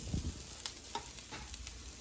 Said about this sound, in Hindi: अब हमने दरमियानी आंच पे 2 टेबलस्पून मैदा डाल के इसको अच्छी तरह फ्राई किया